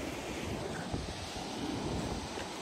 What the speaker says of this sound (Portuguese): Olha esse vento.